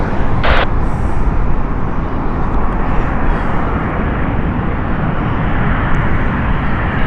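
A Boeing 787 on a Hyderabad flight roars loudly and continuously at Heathrow Airport, a broad steady jet engine rumble that holds strong throughout, with no talking.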